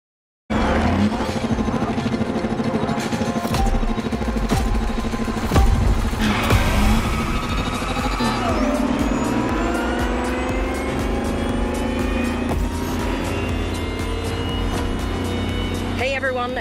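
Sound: Lamborghini Terzo Millennio electric engine sound, The Crew Motorfest video game

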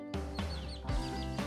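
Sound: chicks peeping

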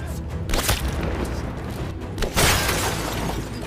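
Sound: gunshots in a war film

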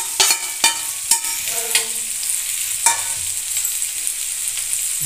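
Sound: frying chopped ginger and garlic in a pan

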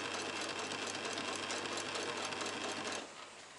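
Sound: sewing machine sewing curtains for a Toyota Coaster

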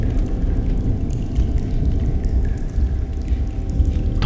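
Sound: water pouring or flowing in the video game Among the Sleep

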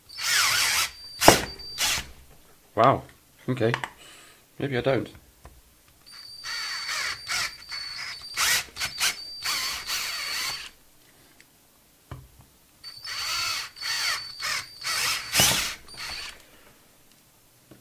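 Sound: power drill drilling

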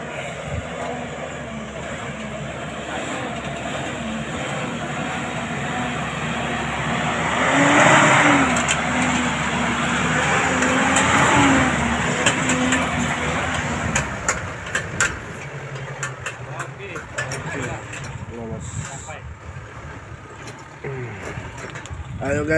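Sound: car driving on a rural road

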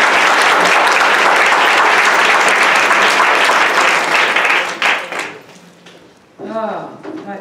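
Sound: audience applause

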